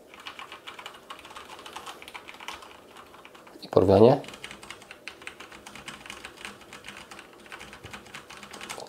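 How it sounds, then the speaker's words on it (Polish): Typing on a mechanical keyboard with Cherry MX Red switches, a short burst of soft keystrokes in the middle, framed by someone speaking before and after. "posłuchajcie, jak pracują Cherry MX Red."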